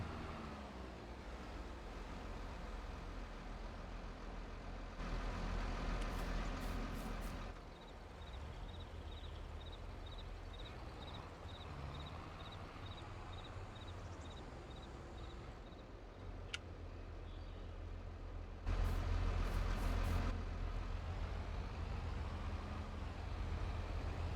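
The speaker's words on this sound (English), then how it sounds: "There's always a car when you don't want one." A car passes in a farming video game, a broad engine-and-road swell building near the end over a steady low rumble of background noise.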